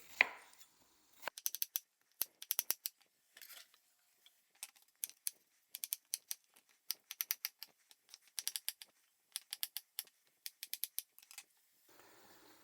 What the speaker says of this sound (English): I usually cut an onion in half vertically, and then like this one, I do it like so.